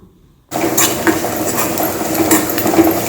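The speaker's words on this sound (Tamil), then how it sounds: "1 கப் தேங்காய் துருவலை போட்டு நல்லா ஃப்ரை பண்ணணும்." Grated coconut, one cup, roasting in a pan for erissery, a steady sizzle and scraping stir of the spoon against metal that starts abruptly after a short silence and stays fairly close and loud.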